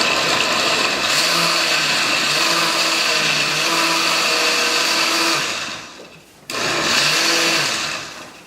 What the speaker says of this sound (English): if you use the ice crush setting on your blender